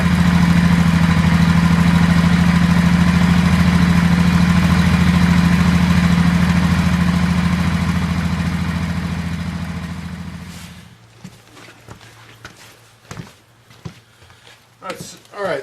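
An engine idles steadily and loudly up close while warming up before an oil-level check, a constant low hum that winds down and stops about two-thirds of the way through, followed by quieter handling noises.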